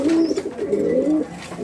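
A classic almond Gorra pigeon coos in low, rolling, throaty notes close by, the call running almost continuously with only brief breaks.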